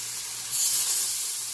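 Plantain slices sizzle in oil on a dosa griddle, a close, steady hiss that swells louder partway through and holds with no voices.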